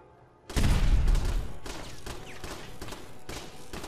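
Turret gunfire in Fallout 4 erupts suddenly after near silence, a loud booming burst followed by a rapid, rhythmic series of shots that continues steadily to the end.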